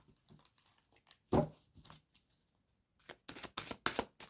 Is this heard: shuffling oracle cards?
yes